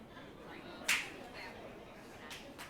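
A single sharp hand clap rings out once, faint, in a room at a leadership summit dinner and town hall, against low background murmur.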